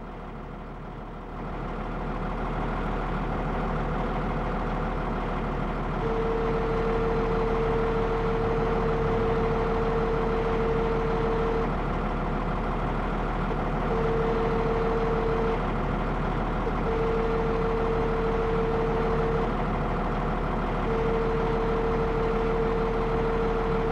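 Steady, loud bulldozer engine drone from the demolition video game 3D Motors Demolition Company, running continuously with a constant rumble and intermittent tonal hum over the whole stretch.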